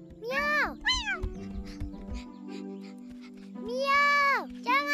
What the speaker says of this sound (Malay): Kucing! Miau! Miau!